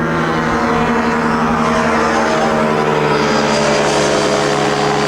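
The loud, steady drone of an airplane's propeller engine fills the air during a skydiving jump, a continuous roar close by with no voices.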